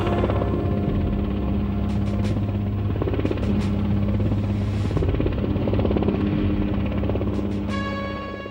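A military helicopter flies steadily overhead, its low rotor thump and engine drone continuous and loud throughout, with sharp high whines cutting in now and then.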